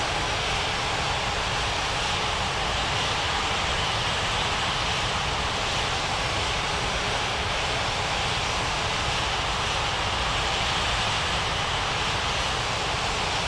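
An Alitalia Boeing 777 at takeoff, its jet engines making a steady, loud, broadband roar that stays constant throughout with no voices.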